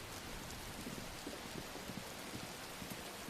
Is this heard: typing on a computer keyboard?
no